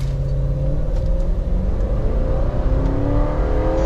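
A 5.0 Foxbody Mustang with headers accelerates from 0 to 60, its V8 a loud, steady in-cabin rumble with engine pitch climbing through rising gears.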